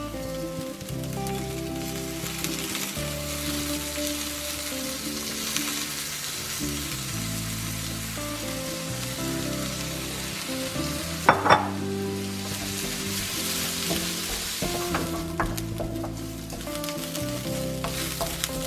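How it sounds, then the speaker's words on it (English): Rice frying and being stirred in a pan for Hainanese chicken rice, a steady close sizzle with scraping stirs and a few sharp clinks of the utensil. "So now you can add the rice in."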